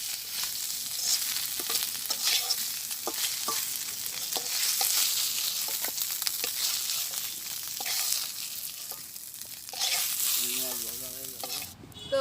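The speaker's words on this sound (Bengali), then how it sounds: "তো আমার মাছ ভাজিটা হয়েছে, আমি মাছ ভাজিটা নামাই নিতেছি।" Fish fries in oil in a pan on a village kitchen stove, giving a continuous crackling sizzle broken by sharp stirring and scraping clicks, with a brief metallic clatter near the end.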